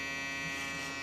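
A small electric hair trimmer buzzes steadily and close during a haircut lineup for a burst fade, a continuous electric hum with no talk.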